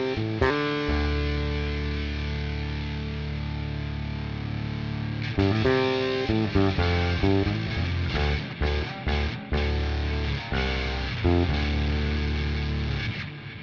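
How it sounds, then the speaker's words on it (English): Bass played through a Quinta pitch machine effect pedal with the dry signal mixed out, so only the pedal's generated tones sound: a long sustained distorted drone, then choppy, repeated synthetic notes. "The only thing that's coming through Quinta is the tones that Quinta is generating, because I've mixed out my dry signal."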